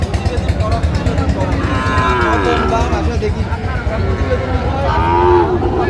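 Sahiwal cattle, bulls at a livestock market in Cox's Bazar, moo loudly in drawn-out calls close by, over a steady background of crowd murmur and nearby talk.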